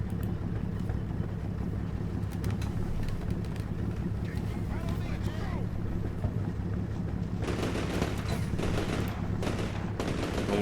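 Gunner firing in the video game Combat Mission Shock Force 2, steady bursts of gunfire over a constant low rumble and wind-like noise, growing denser and louder toward the end, with talk in places.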